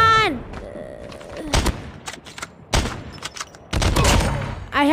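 Gunshots in the mobile shooter Call of Duty Mobile: several loud, punchy shots in irregular clusters, close and sharp, mixed with game effects and a brief falling tone at the start.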